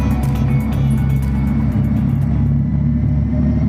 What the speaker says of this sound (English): The motors run for the very first time on the chassis dynamometer.